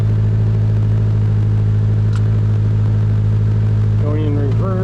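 A car engine starts up with the driver's foot on the brake, leaving a steady low idle rumble throughout, with a rising whine or hum toward the end as the engine settles; no talk is audible.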